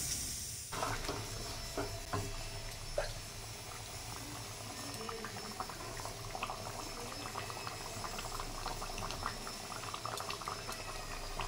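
Aloo dum, a potato curry, simmering in a pot, giving a steady close bubbling and popping with small irregular spits throughout, no voices over it.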